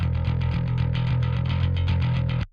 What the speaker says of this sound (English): it's not overly distorted, it's not overly processed, it just adds a little bit of grit as the preset calls